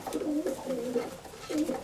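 A large, long-tailed pigeon coos nearby in soft, repeated low calls, with three or four rolling coos close together and faint background noise.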